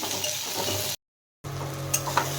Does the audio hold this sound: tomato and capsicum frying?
yes